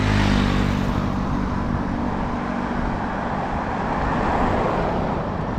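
Weekday morning road traffic in Ban Chang, Rayong, Thailand, a continuous dense roar of cars and motorcycles passing close by, with no pauses and almost no talking.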